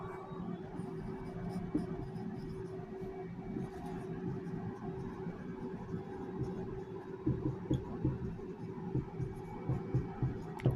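Chalk or marker scratching on a classroom board during a chemistry lecture, a faint run of short strokes that grows into quicker rhythmic taps near the end, over a low steady room hum.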